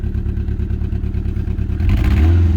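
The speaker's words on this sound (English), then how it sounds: "Moving Bolty's car in the dark" A car engine runs with a steady low, pulsing drone in the dark, then grows louder and rougher near the end as it is moved, loud and close with no talking.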